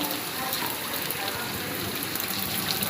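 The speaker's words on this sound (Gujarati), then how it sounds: "વરસાદ ચાલુ છે." A sudden heavy downpour: steady rain patters and hisses close by, an even continuous wash of falling water.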